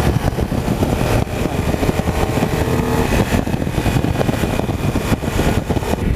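A Triumph Thunderbird Commander cruiser motorcycle rumbles along at a steady cruise, its engine loud and continuous with wind rush blended in.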